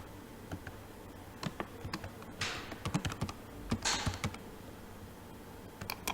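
Keys clatter on a computer keyboard in short, irregular bursts of typing, close and fairly quiet, with pauses between runs of clicks.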